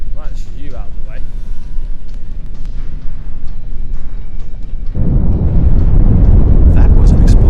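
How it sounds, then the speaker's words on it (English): A heavy explosion in the Star Trek Online game on Xbox One erupts as a loud, rumbling blast that swells and sustains through the second half, following game voices and effects. "That was an explosion of sufficient magnitude to cause a breach."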